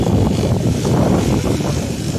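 Steady wind buffets the microphone with a continuous low rumble that swells and eases slightly, with no voices.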